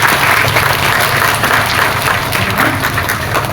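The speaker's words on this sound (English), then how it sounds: "Can we just give her a big round of applause?" Loud, dense applause fills a convention hall as the audience claps continuously at a women's event, steady from start to finish with a low hum underneath.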